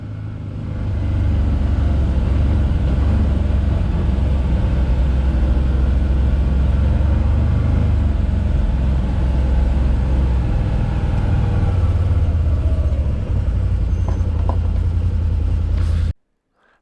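A Can-Am Defender XMR side-by-side utility vehicle with its engine running, a steady, loud low rumble that holds for about sixteen seconds before cutting off abruptly.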